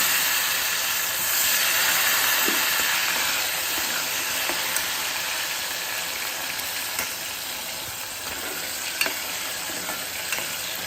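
Potatoes hit hot oil seasoned with asafoetida and set off a steady, bright sizzle that hisses continuously for several seconds, with faint stirring clicks near the pan.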